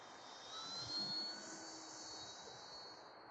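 A Multiplex Extra 300s electric RC plane flying on a 4S 2200 mAh battery, heard as a faint, steady high motor whine from a distance that swells slightly and then holds.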